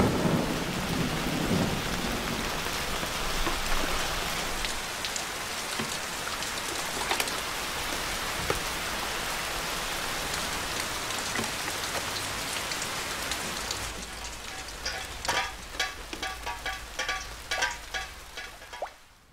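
Heavy rain pours steadily onto surfaces during a thunderstorm, with low thunder rumbling underneath and scattered drip-like patters toward the end. No voices are heard.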